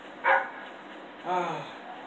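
Dog barking in the video game Fable III: two short barks, the second a longer whining yelp, fairly close and moderately loud against a quiet game background.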